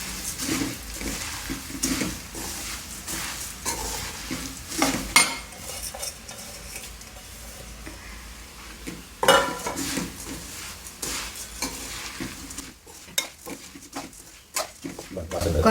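Puffed rice being stirred and roasted in a pan with chili powder and salt for masala borugulu, giving a near, dry rustling scrape with intermittent clinks of a utensil against the pan.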